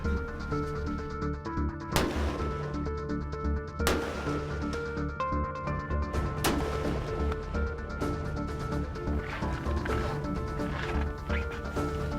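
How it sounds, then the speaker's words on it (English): Rifle shots ring out at a local gun range in Saskatchewan while rifles are sighted in before a whitetail hunt: three sharp, loud reports spaced a few seconds apart over a steady musical background. "the first thing we need to do is sight in our rifles at the local gun range"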